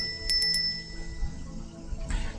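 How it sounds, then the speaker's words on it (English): A bell rings in a quick burst of three bright metallic dings, close and clear, followed by a faint clink and low background hum. "The second bell rang."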